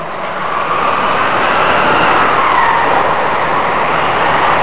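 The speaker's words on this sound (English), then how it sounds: "You can hear John's truck from a mile away." A loud, sustained engine roar with steady broadband noise as a racing stock truck passes close by at speed during a race.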